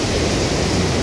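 River rushing at Rambara on the Kedarnath trek: a steady, dense broadband roar of fast mountain water, continuous and close, with no gaps.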